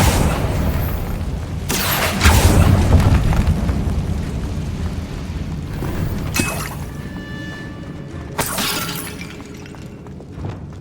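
A Confringo fire spell in Hogwarts Legacy goes off in three sharp, shattering blasts spaced several seconds apart, each bursting loudly over a low rumbling game background.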